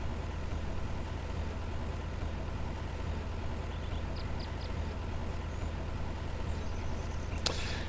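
A tractor hauling a plow in the farming game Farmer's Dynasty drones with a steady low engine rumble that holds evenly throughout, ending in a brief sharp click.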